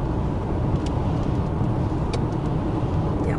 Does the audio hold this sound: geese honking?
no